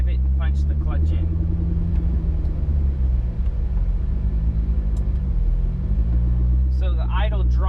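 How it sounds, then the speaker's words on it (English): A tuned car engine with an HPTuners idle calibration hums at a low steady idle, its pitch sinking slowly and settling as the clutch is pushed in, with someone talking over the rumble. "So the idle drops slower and then stops right where I want it to."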